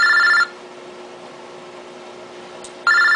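A mobile phone rings with a loud electronic tone in two bursts, one at the start and another returning near the end, separated by steady quiet hiss.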